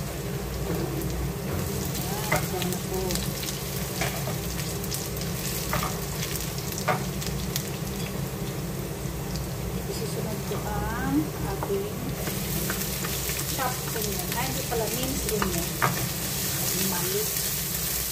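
Garlic fries in a pan with a steady, dense crackling sizzle that runs the whole time, with light utensil scrapes and a voice talking over it now and then.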